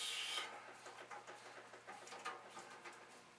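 A screwdriver works screws and washers out of a Commodore 8050 disk drive, giving faint, close scraping and rasping ticks in an uneven rhythm, with no talk.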